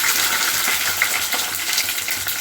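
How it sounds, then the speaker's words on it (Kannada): Onions fry in hot oil in a steel pan for egg rice, giving a constant, close, crackling sizzle that stays fairly loud and even throughout, with no talking. "ಎಣ್ಣೆ ಹಾಕಿದ ತಕ್ಷಣ ಹಿಂದೆನೇ ಈರುಳ್ಳಿ ಹಾಕ್ಕೊತೀನಿ"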